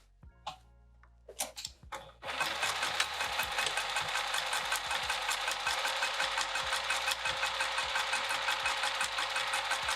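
A sewing machine stitches a bag seam with piping in matching thread. It opens with a few scattered clicks and handling knocks, then runs as a steady, loud mechanical whir with rapid rhythmic needle knocking until the end.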